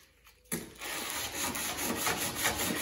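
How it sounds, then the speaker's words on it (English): Filler on a Mercedes Sprinter side loading door is sanded by hand, a steady abrasive rubbing that starts abruptly after a quiet moment and continues with a rhythmic scratchy texture, close by. "She's sanding down some filler on the Mercedes Sprinter side loading door."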